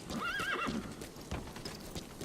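D-Horse in the video game Metal Gear Solid V gives a clear whinnying neigh alongside clip-clopping hooves, a quiet in-game sound with no talk.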